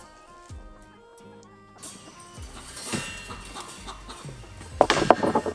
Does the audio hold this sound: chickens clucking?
yes